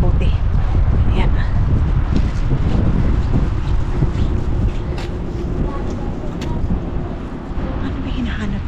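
Strong wind blows outdoors, a loud, steady rumble buffeting the microphone throughout the whole stretch.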